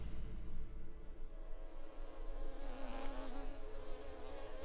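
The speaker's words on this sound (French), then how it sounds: "Ah, c'est bizarre, une mouche." A fly buzzes steadily nearby, a continuous droning hum with slight wavering in pitch, heard alone without talking.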